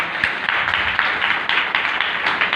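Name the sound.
audience clapping hands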